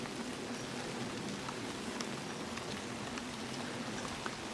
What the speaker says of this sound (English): It's raining again now, look.